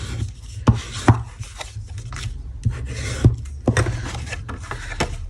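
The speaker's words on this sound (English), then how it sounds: "I'm going to let that dry for just a second and burnish this closed." Paper card being burnished closed by hand for a Christmas card with a gold embossed poinsettia: close, dry rubbing and rasping strokes with several sharper scrapes, steady throughout with no talking.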